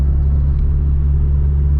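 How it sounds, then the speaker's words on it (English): A Mk6 Ford Fiesta ST150 engine idles with a steady, loud low rumble and a throaty exhaust drone from a leaking exhaust, heard up close with no voices. "we're gonna have to sort this exhaust out because it's started leaking once again"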